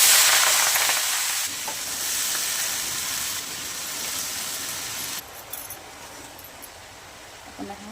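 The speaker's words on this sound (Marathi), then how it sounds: "हळूहळू भाजून घ्यावं लागेल." Mixed vegetables with turmeric fry in a pan for a Bhogi mixed-vegetable dish, giving a steady close sizzle that softens partway through and carries on more quietly with faint clinks.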